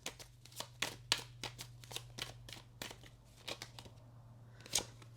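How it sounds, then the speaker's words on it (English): Tarot cards being handled and shuffled, a quick series of crisp riffling snaps and papery flicks repeating through the clip over a steady low electrical hum, close and fairly quiet with no talking. "I'm going to grab these cards."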